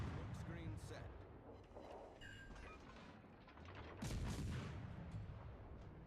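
Battleships in a naval video game fire their guns in heavy, rumbling booms that roll on without a break, dense and loud in the foreground, while a voice talks over the barrage.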